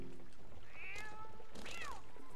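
A cat in Zelda Twilight Princess meows twice, a shorter rising call followed by a longer, louder bending cry, each standing alone against quiet game ambience.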